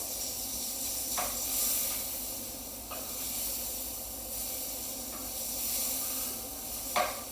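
Pork sizzles steadily in a frying pan, a continuous close hiss and crackle with a few sharper pops scattered through it, heard alone without any talking.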